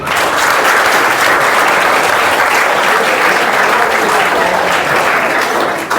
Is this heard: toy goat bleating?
no